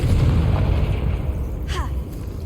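A Confringo spell explodes in the video game Hogwarts Legacy, a deep rumbling blast that fills the short moment, with a brief whistling sweep near its end.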